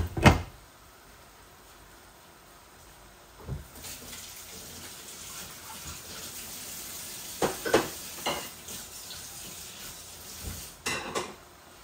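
Onions and tomato frying in spices in a home kitchen pan make a soft, steady sizzle, broken by a few clinks and scraping stirs of a utensil against the pan.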